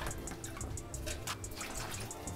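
Water from stored containers poured for a shower in a home in Guadeloupe; faint, steady splashing with small repeated drips and trickles close by.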